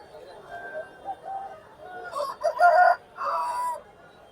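A rooster crows loudly a couple of times over soft background chatter at a rooster market in Gokavaram, with other fowl clucking nearby.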